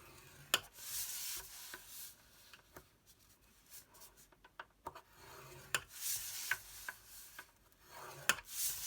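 Paper is scored with a scoring tool to make plaid-wrapped gift boxes, giving a series of soft, close scraping and rubbing strokes with short quiet gaps between them.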